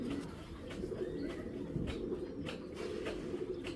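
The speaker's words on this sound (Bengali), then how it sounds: "একদম পুরান জাতের আর্মি কবুতর একটা" An old-line army breed racing pigeon cooing, repeated soft throaty coos in a steady rhythm, close and clear against a low background murmur.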